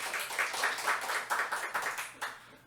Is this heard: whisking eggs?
no